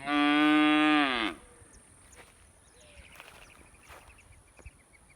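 A year-old calf on a Florida farm lets out one loud, drawn-out moo calling for its mother, close to the listener. The moo then stops, leaving faint bird calls and quiet outdoor background.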